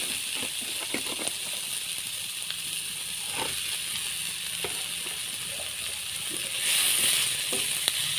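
Boroli fish head frying in hot oil over a lowered flame, giving a steady, fairly quiet sizzle with scattered crackles and light stirring clicks, swelling a little louder near the end.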